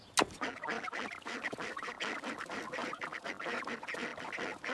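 A flock of ducks quacking busily and overlapping, a dense chattering chorus of nasal calls close by, with one sharp sound near the start.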